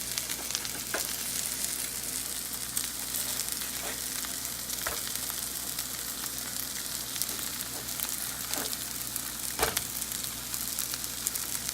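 Keto cheddar bacon pierogies fry in a pan with a steady, close sizzle, crackling pops scattered throughout and a few sharper spits standing out, with no voices.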